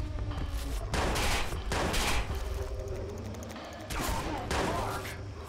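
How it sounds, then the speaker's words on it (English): Bursts of gunfire from the Watch Dogs video game during a prison shootout, several heavy rapid volleys separated by brief gaps, loud and close over a low rumbling background. "These shots don't do a goddamn thing to him"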